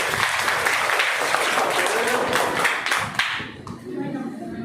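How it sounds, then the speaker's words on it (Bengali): A room of primary schoolchildren clapping during a classroom quiz: a dense, steady burst of applause for about three seconds that then thins out, with voices underneath. "হাততালি দাও।"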